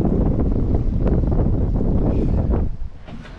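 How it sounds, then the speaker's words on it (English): Strong wind blowing by a river, a loud, continuous roaring buffet across the microphone that eases slightly near the end, with no talk. "Don't know if you can tell from that how windy it is, but it's windy enough."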